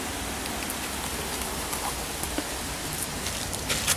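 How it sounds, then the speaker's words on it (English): Steady rain falls outdoors during a visit to an HVAC job site, a dense, even hiss of drops pattering on surfaces, close and constant with no talking. "it rains"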